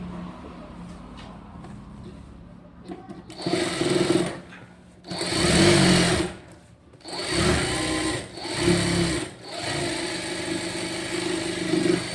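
Computer embroidery machine stitching a blouse, its rapid mechanical whirring rising in several loud bursts of a second or two, separated by quieter pauses where a low hum remains.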